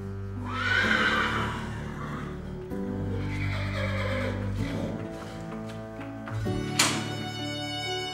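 Horses at a riding club whinny and neigh loudly in drawn-out calls, with another sharp neigh near the end over steady stable background noise.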